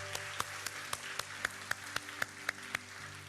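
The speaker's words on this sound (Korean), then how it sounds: "우리 하나님께 감사와 영광의 박수를 드리겠습니다." A church congregation claps in rhythm during Sunday worship, a soft, evenly paced series of about a dozen sharp claps over a low, steady background hum.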